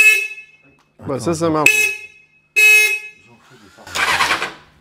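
A motorcycle horn wired to the parking light honks in several short, loud bursts separated by silence, with a person speaking between them.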